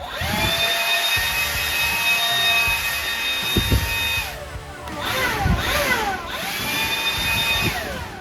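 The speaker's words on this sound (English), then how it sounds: "And so that is a 20 volt axial blower." A DeWalt 20V axial leaf blower, model DCEL722, runs with a loud, close motor whine whose pitch drops and rises as the throttle changes, with a brief lull partway through.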